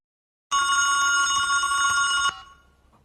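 A telephone rings once: a loud, close electronic trill that starts sharply, holds for about two seconds, then cuts off abruptly into near silence.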